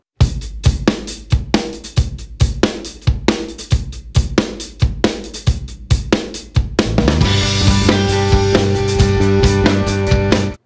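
A recorded rock drum track plays loud and close, with punchy kick and snare hits in a steady groove, then crashing cymbals and a dense fill of full drums washing over the last few seconds.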